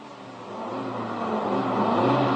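A car engine builds steadily in a radio drama as a vehicle pulls away during a pursuit, its low hum rising and growing louder over a couple of seconds, heard alone with no voices.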